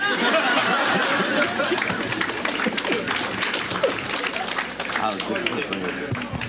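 Audience applause in a lecture hall at a sports politics event, a dense continuous patter of many hands fairly close, mixed with crowd chatter and some laughter throughout.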